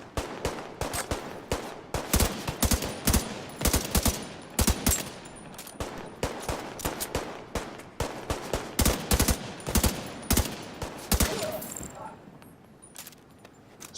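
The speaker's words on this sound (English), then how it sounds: "So many bullets." Rapid video game gunfire from The Division 2, dense bursts of automatic shots cracking in quick succession throughout, loud and close, with a brief lull near the end before a few more shots.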